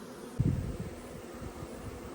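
A honeybee swarm settles into a new hive, a soft, steady buzzing hum heard faintly and close by, with a brief low thump near the start.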